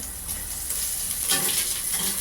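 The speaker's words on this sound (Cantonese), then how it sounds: "將啲薑片就爆香啦，仲有蒜頭同埋咧葱段" Ginger slices, garlic and scallion pieces sizzle in a hot wok, a brief, steady frying hiss with a slight crackling surge midway and no voices.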